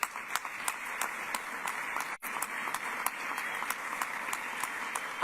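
An audience at a Virginia governor's announcement applauds, steady moderate clapping with a few sharper individual claps standing out, sustained throughout with one brief dip.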